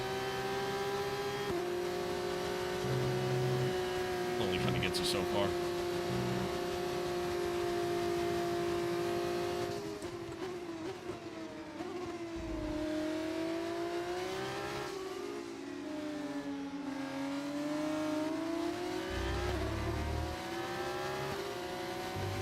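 An F1 car engine in F1 25 racing at Austria holds a steady high whine that rises and dips through gear changes and corners, with a brief tyre squeal. Someone talks quietly over it.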